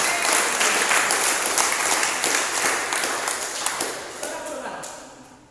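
A church congregation claps in applause, a dense burst of many hands that is loud at first and gradually tapers off, with faint voices mixed in.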